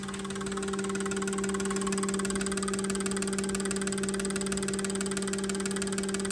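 A Honda car engine idles steadily at close range during an idle test in a junkyard, with a constant hum and slightly uneven knocking that suggests a cylinder may be misfiring.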